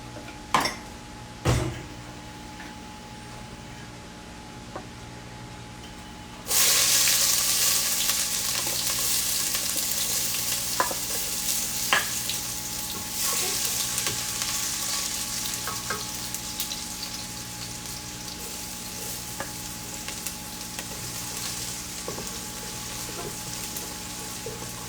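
Onion and garlic hit a hot pan with a couple of clanks, then a loud, steady sizzle of frying sets in and carries on, with occasional stirring clicks.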